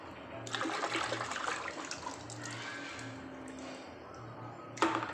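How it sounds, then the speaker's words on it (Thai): Water rinsing inside a toilet tank during a fill-valve repair, a continuous hissing rush of water with faint intermittent hum, close and moderately loud, ending in a brief splash. "ล้างน้ำในถังเลย"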